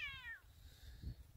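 A cat meows in a short, rising-and-falling call near water tubs on a farm, followed by a low thud, with no one talking.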